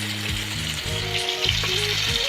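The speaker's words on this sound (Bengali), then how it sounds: "এখন আমার এই যে রসুন আর কাঁচা মরিচ ভাজা হয়ে গেছে, আমি উঠে নিচ্ছি।" Garlic and green chilies frying in a pan for a bitter gourd mash: a steady, bright sizzle heard close up, with a faint tonal hum underneath.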